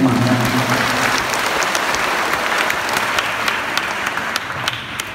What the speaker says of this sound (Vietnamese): xin ông bà đã có một tràng pháo tay để chúc mừng nhà